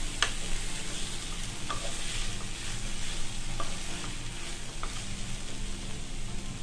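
Chicken filling is stirred in a hot pan over a continuous sizzle, with regular scrapes and clinks of the spoon coming through close by.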